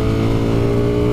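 The V4 engine of a 2020 Ducati Streetfighter V4 motorcycle gives a brief, loud, steady mechanical drone rich in harmonics, held close and even, with no change in pitch.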